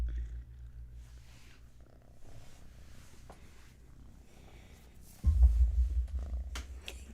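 A kitten wearing a cone purrs with a soft, low, rhythmic rumble, faint at first and then suddenly much louder and closer for the last couple of seconds.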